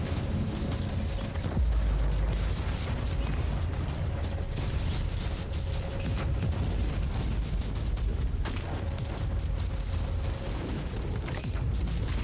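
Grenade explosions in the Warhammer 40K: Inquisitor - Martyr video game come as dense, continuous booming rumble with scattered pops and mechanical clatter, loud and sustained throughout without speech.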